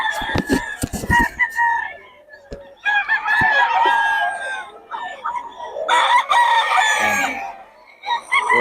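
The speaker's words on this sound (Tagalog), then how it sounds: "Quality mga manok ni Boss Batang, mga idol" A rooster crows loudly and repeatedly nearby at a market in Bocaue, its long strained calls mixed with clucking hens and a few sharp clatters in the background.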